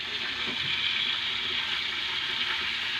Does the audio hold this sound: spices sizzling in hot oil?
yes